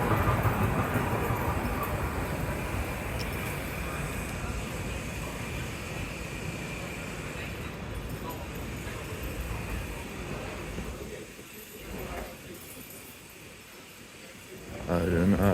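A subway train carries riders toward Penn Station at 4:45 in the early morning, with a steady, loud rumble and rattling clatter that eases briefly near the end before swelling again. Faint voices may sit under the noise.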